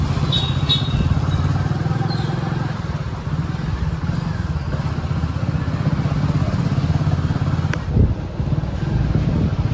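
A motor vehicle engine runs steadily while the vehicle sits stuck between Daman board and Pendri. The drone is loud and continuous at close range, with a brief clatter near the end.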